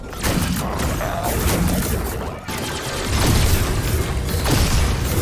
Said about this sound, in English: I am fond of how the guns sound in the game